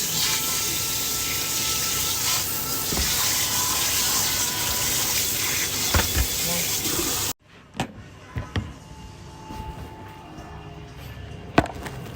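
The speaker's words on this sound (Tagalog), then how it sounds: "Hugasan na malamig ng tubig." Cold tap water runs and splashes over meat being washed, a continuous gushing stream that stops abruptly, followed by scattered handling knocks and small drips in a quiet kitchen.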